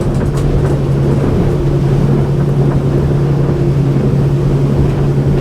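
Axopar 28 Cabin motorboat (2021 MKIII) carving a tight turn at 36 knots with its engine trimmed in, a steady loud engine drone and rushing water and wind noise throughout, no talking.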